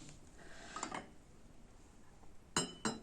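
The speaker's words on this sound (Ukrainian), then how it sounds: "За звуком це скоріше скло, але дуже гарне скло" Faint glass clinks from a glass box with a bird figure on its lid: a soft pair of taps early on, then two sharper, brighter clinks near the end, in a quiet room.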